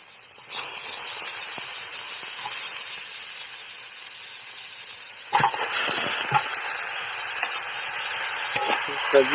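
Leafy greens go into a pan of fried onions, green chilli and garlic. A continuous bright hiss jumps louder partway through as they land, with scattered stirring clicks and scrapes.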